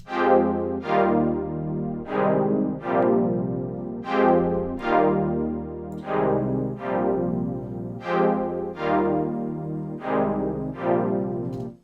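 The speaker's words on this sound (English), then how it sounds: "So it's a really nice, deep, warm pad" A warm, deep house synth pad playing sustained chords in a steady sequence, each swelling in and softly decaying, with no one talking.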